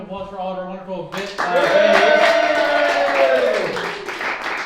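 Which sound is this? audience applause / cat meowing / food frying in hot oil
audience applause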